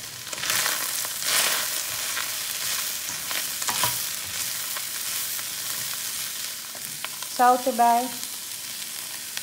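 Steady sizzling of spices frying in a pan for a samosa chicken filling, with occasional stirring scrapes; a voice speaks briefly near the end.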